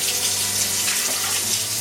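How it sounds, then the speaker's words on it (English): Lukewarm water pours steadily from a kitchen tap into a mixing bowl for French bread dough, a continuous close splashing rush at even loudness with no voices. "in the main bowl, which you're going to mix everything, just put the water, which really should be lukewarm"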